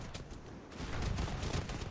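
Hand cannoneers and bombard cannons fire in a battle in Age of Empires, a dense rolling barrage of gunshot cracks and heavy booms that thickens and grows louder partway through.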